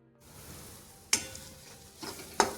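Spices sizzle in hot oil with a soft steady crackle, broken by a few sharp metallic scrapes of stirring.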